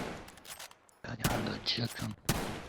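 Battlefield 5 gunfire in bursts of sharp, loud shots, with a quieter stretch first and then dense firing from about one second on, a final strong burst near the end.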